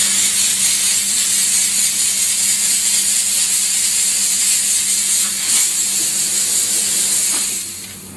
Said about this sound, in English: we'll briefly rinse out as much wine as we can. Using this vacuum and steam gun